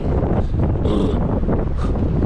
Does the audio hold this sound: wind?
yes